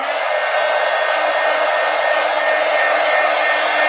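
A hair dryer blows steadily and loudly on wet paint in an art journal, a constant airy whoosh holding at one level from start to finish with no talking.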